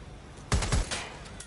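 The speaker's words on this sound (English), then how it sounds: "They're shooting at us!" Gunfire in the video game Watch Dogs Legion: a short cluster of three sharp shots in under half a second, loud against a low steady background hum.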